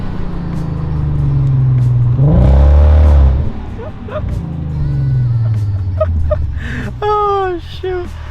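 A lowered Volkswagen Passat revs up and drops back as it downshifts, the engine loud and close through open windows with a strong rising surge in the middle. Someone speaks briefly near the end.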